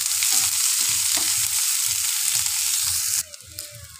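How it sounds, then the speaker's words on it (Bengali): Chopped onions fry in a pan for a mustard fish curry, with a steady, loud sizzle and repeated rhythmic spoon scrapes underneath, then the hiss thins out near the end. "এবারে দিয়ে দেব কেটে রাখা পেঁয়াজ। পেঁয়াজগুলো খুব লাল লাল করে ভেজে নেব।"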